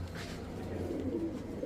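Soft, low pigeon cooing at a market sale of Kaldom pigeons, faint and continuous against steady background noise.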